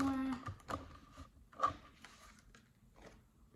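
An oracle deck of cards is shuffled by hand, producing soft clicking and flicking card sounds in small clusters, fairly quiet and close, with faint room tone between.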